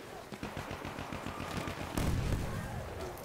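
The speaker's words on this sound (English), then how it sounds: "The sniper fire." Sniper and other gunfire at the Lupkow Pass in a war game battle, with dense cracking shots and bursts that grow louder and heavier partway through, under faint voices.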